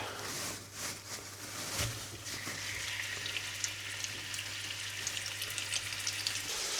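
Beef being seared in hot oil in a pan for a slow-cooker stew sizzles steadily as a broad, continuous hiss. A brief clatter comes early on, then the frying noise carries on evenly with no talking.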